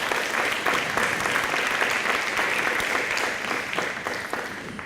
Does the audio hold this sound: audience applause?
yes